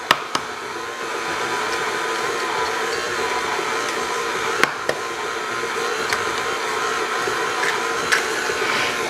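An electric hand mixer creams butter and sugar for espresso chocolate chip cookies, a steady whirring motor hum running throughout with a few sharp clicks and knocks, no talking.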